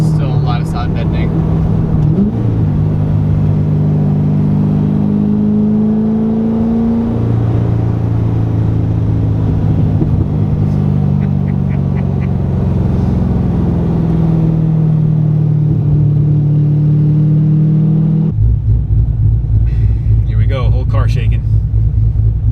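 Chevrolet Corvette C6 Z06 with upgraded heads and cam, its V8 rumbling and revving from inside the cabin, a loud steady drone rising and falling in pitch, with people talking over it throughout.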